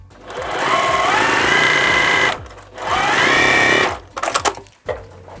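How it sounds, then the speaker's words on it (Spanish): A sewing machine stitches patchwork fabric pieces for a baby quilt in two steady, loud runs of rapid whirring, each lasting over a second, separated by short pauses and followed by brief stop-start bursts of stitching. "Los voy a coser así de esta manera."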